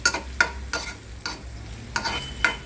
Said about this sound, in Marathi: आता आपण कांदा आणि तेल पॅनमध्ये टाकलेलं आहे